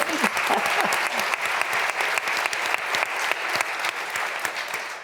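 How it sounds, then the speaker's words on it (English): An audience at a panel event on trailblazing women in Las Vegas gives the panelists a round of applause, with crisp, close, sustained clapping throughout. "Please give all of our panelists a round of applause."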